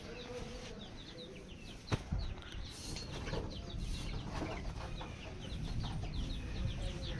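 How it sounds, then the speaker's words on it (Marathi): Chickens cluck and chirp busily over a steady background murmur, with a few brief bursts of fluttering and scuffling nearby. "आपली कोंबड्यांची इकडची तिकडे धडपड चालू आहे"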